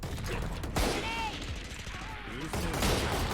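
Rapid gunfire in the tactical shooter Valorant, with dense overlapping shots and rattling bursts filling the whole moment, strongest at the start and near the end, while a player talks over it.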